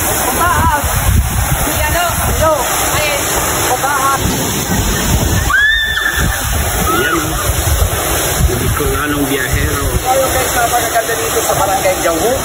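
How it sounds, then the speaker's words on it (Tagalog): Palale Falls waterfall in Malinao, Albay, roaring as a steady broad rush of falling water, loud and close, with people talking over it throughout. "Ayan, Palali Falls."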